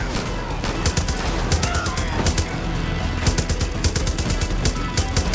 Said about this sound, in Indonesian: Pengendaranya aja kita tembak ya. Sulit banget ngendaliin senjatanya.